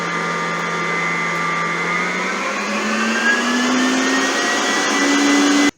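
Electric mixer beating apple pie batter with sugar in a kitchen, a loud steady whirring motor drone whose pitch slowly rises, running alone for several seconds before cutting off abruptly.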